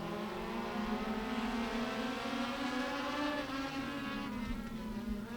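Race cars in a heat race at Beckley Motor Speedway, a continuous droning roar of several engines heard from a distance, steady without breaks or talking.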